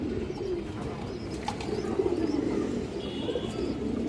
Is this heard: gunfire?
no